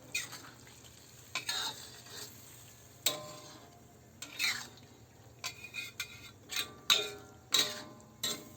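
A spoon stirs Bicol Express in a pan as coconut cream goes in, with soft irregular scrapes and clinks against the pan over a faint low simmer, fairly close and with no talking.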